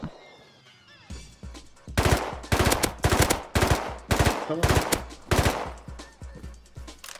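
Bursts of AK-47 fire in the survival game Rust ring out loud and close after a quiet second, several rapid strings of shots separated by short pauses.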